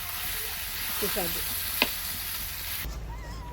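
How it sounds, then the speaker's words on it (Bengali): Pork and pre-fried potatoes sizzle together in a pan on a clay stove, a steady close frying hiss with a brief stirring scrape near the middle, no talk. "এখন আলুটা মাংসের সাথে মিক্স করছি"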